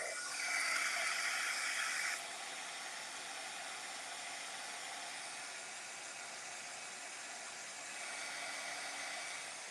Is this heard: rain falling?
no